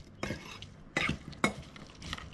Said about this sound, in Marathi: तेज्या उपरांत न्हय हे सगळें बरें मिक्स करून घेवंक जाय कांदो आनी मीठ।